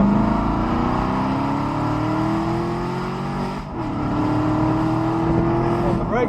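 A car engine on a track climbs steadily in pitch as it revs toward 5,000 rpm, drops briefly at a lift or shift, then rises again, loud and close inside the cabin.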